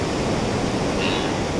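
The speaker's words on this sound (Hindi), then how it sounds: "ये घरों के अंदर से पानी निकल रहा है" Floodwater pouring out of village houses in Chamoli after a cloudburst, a loud, steady roaring rush of water filling the scene without pause.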